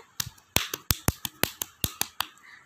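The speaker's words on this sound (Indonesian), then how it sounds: "Kasih tepuk tangannya dulu dong." Sparse hand clapping in a classroom: roughly ten sharp, separate claps in an uneven rhythm, close and clear, with no talking.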